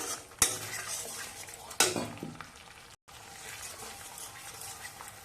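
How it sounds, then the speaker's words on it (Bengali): A spoon scrapes and clatters in a pan while spice paste cooks down with yogurt for a Bengali potol rezala, two sharp metallic knocks over a soft continuous sizzle, close and moderately loud, no talk. "দইটা দিয়ে আবারও দু তিন মিনিট কষিয়ে নিলাম"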